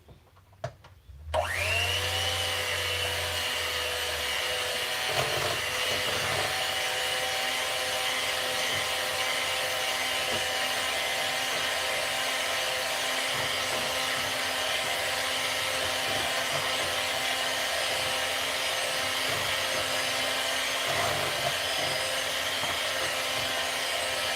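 An electric hand mixer beats batter for Thanksgiving baking, switching on after a brief quiet start and then running as a loud, steady, close motor whine for over twenty seconds with no talking.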